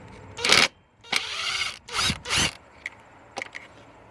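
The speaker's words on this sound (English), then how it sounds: "I got one of these impacts, so just be careful with these impacts, especially on tighten it" An impact driver tightens bolts on a 2004 Chevy Suburban during an evap purge valve solenoid install, firing several short loud bursts separated by quiet gaps, close by with no talking.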